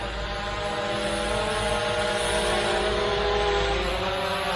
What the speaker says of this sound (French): Voilà, notre drone, il revient.